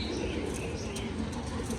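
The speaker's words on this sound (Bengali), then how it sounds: "আর এদিকে রাজশাহী সিমি নটা ডাকাডাকি করছে" Rajshahi breed pigeons calling at a home loft, a soft continuous murmur of cooing under faint chirps and background noise.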